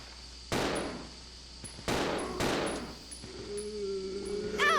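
Three separate bursts of gunfire in the Resident Evil Zero video game, loud and sharp with decaying tails. A sustained electronic tone follows near the end.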